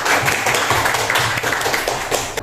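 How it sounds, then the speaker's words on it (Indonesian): Students in a classroom clap together for a classmate's answer: a loud, dense patter of close handclaps filling a brief couple of seconds. "Tepuk tangan dulu."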